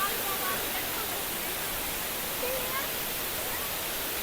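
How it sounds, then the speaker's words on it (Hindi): Bee Falls waterfall in Pachmarhi roars nearby as a dense, steady broadband rush of falling water, constant and loud from start to finish. "फाइनली मैं पहुँच गया हूँ बी वाटरफॉल के पास में, और आप देख सकते हैं मेरे बगल में यहाँ पे बी वाटरफॉल।"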